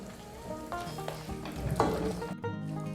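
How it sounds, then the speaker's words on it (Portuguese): Salted cheese curd for requeijão-style butter cheese being stirred in a hot pan, with a steady sizzle and scraping strokes running throughout, a few sharper clanks near the end. "Depois de adicionar o sal, eu vou mexer por mais 8 minutos."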